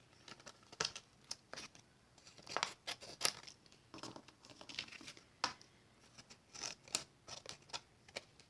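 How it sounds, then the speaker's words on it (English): Paper snips cut through vellum for a stained-glass leaf card, a run of sharp, crisp snips in an irregular rhythm with faint crinkling between cuts, close and fairly quiet, with no voices. "you can take this vellum here with your snips and you can just snip away all of the extra"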